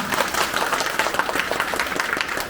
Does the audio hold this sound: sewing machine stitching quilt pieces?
no